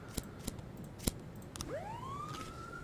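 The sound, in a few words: police car siren arriving, from video game This Is the Police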